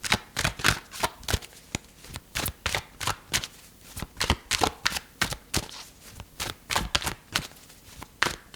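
Tarot cards are handled, shuffled and drawn from the deck in a rapid flurry of close, crisp riffling slaps that run steadily throughout with no one talking.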